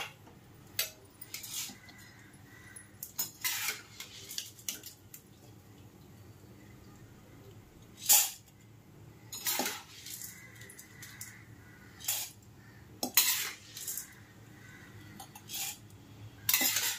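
Hot ghee drains through a metal strainer into a pot, with quiet dripping and scattered metallic clinks and knocks of the strainer against the vessel, close and fairly faint in a quiet kitchen.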